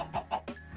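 A few quick, soft clucks from a video game chicken, short and close, in a brief burst.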